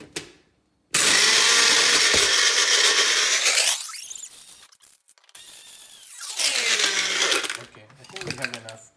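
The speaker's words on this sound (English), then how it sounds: "Let's put it on a blender and crush it." A blender roars loudly in two long bursts, grinding and rattling as it crushes ice for Dalgona coffee, with a brief pause between runs.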